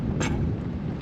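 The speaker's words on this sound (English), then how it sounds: "you can hear the thunder" Thunder in a wild storm in Canberra, Australia, rolls as a loud, deep rumble close overhead, blended with the steady wash of rain and wind across the whole moment.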